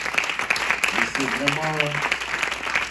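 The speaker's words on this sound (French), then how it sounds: "si on peut applaudir nos auditeurs aujourd'hui" A church audience applauds its listeners, a bed of scattered clapping running under someone speaking over it.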